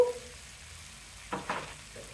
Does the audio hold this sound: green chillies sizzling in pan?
yes